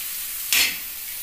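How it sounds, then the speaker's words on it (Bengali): A spiced potato filling for singara is stirred in a pan, with two brief scraping sizzles over a quiet background hiss. "একটু জল দিয়ে এটাকে ভালো করে কষিয়ে নিচ্ছি"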